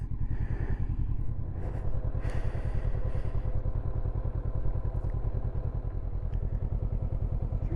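A Honda CB500X motorcycle ridden along a road, its engine a steady, close, continuous drone with faint clatter and no talk.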